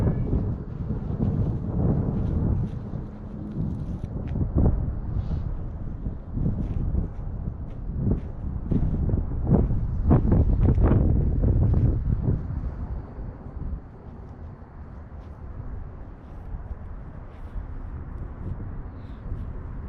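Strong outdoor wind buffets the microphone at a dig site, producing loud, rumbling low gusts that swell and fade over twenty seconds without pause.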